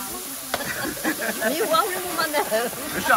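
Tomato sauce hits a pan of frying garlic and onions with a hiss, crackling sizzle and stirring, while people talk over the cooking.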